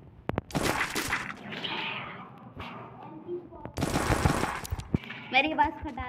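MP40 submachine gun fire in a mobile shooter game, short bursts of rapid automatic shots mixed with game effects and clatter, close and fairly loud.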